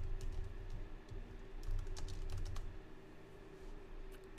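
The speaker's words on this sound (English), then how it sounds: "If I can type." Steady computer keyboard typing runs throughout, with quick irregular key clicks at close range under a low background hum and no talk.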